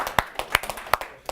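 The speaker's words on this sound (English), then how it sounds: "Round of applause for both our gentlemen." A small group claps for two gentlemen during a classroom-style presentation: a short burst of sparse, uneven handclaps, close and distinct, about six or seven claps in just over a second.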